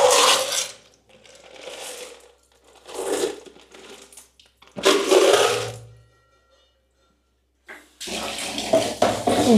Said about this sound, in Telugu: బకెట్లో వాటర్ పడే సౌండ్ ఎక్కువ వినిపిస్తుంది